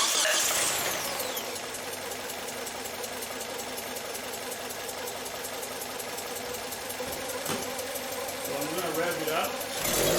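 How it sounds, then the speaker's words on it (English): A Hyundai Elantra engine with severe power loss idles steadily and close, a continuous mechanical rattle and hum with a brief change near the end. "I'm gonna go inside the vehicle and start the engine"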